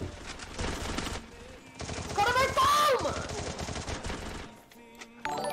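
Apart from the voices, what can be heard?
shotgun gunfire in a video game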